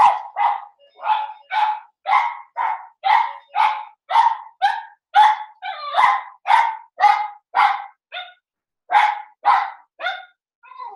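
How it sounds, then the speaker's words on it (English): A dog barks in a long, regular series of sharp, loud, close barks, about two each second, with brief pauses between some of them and no talking over the barking. "It's my dog doing its duty"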